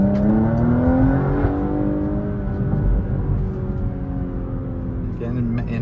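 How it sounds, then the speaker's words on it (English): Car in sport mode with a louder exhaust, its engine droning and revving steadily from inside the cabin, loud and continuous, with the pitch rising gradually before settling. "especially when you have it in sport, it turns the exhaust louder"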